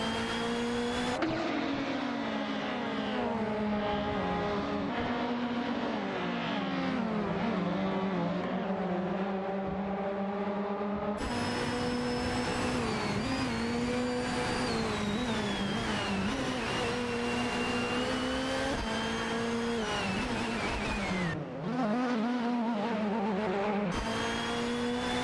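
Ford Sierra Sapphire and Nissan Primera race cars in a racing video game roar continuously as engines drone and shift pitch through gear changes, steady and loud throughout with a few abrupt cuts, no talking.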